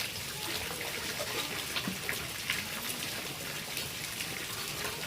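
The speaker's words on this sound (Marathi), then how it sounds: "चांगल्या पाण्यामध्ये धुवून" Tap water runs steadily while Murrel fish is rinsed clean in a kitchen, a continuous gushing splash with small irregular drips and spatters, moderately loud and with no voices.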